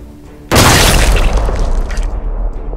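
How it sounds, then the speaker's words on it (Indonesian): A big explosion sound effect: a sudden, very loud boom bursts in after a brief quiet start, then a deep rumbling roar slowly fades away. "Ledakan besar mengguncang langit."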